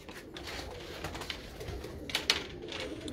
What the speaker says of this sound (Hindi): ये इनके रीजनल नीले कबूतर जो है ना, अब उनका शौक करवाएंगे गुज़नफर भाई।